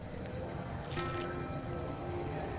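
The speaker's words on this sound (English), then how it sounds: "Now I can drink." Bottled water being drunk in Fallout: New Vegas, a brief wet gulping squish at close range over a steady low game hum.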